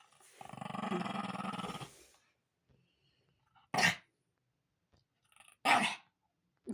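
A dog gives a low, sustained growl for about two seconds, followed by two short sharp snorting bursts separated by quiet.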